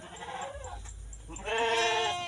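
A female goat bleats close by, one drawn-out wavering call followed by a second, louder cry, heard on its own.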